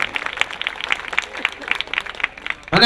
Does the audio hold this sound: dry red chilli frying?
no